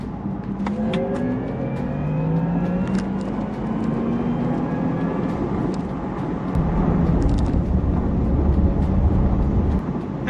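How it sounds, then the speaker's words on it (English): A Porsche Taycan electric car accelerating with a smooth rising whine whose pitch climbs repeatedly, over road and wind rumble that grows louder. "something very futuristic sounding about that battery response, the sound that you get when you're accelerating"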